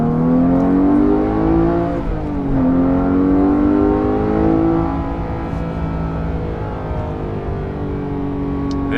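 A Porsche GT3 Touring's 4-liter engine revs hard and accelerates through the gears, a loud, rising howl that dips briefly at a shift and climbs again, close and steady with no talk.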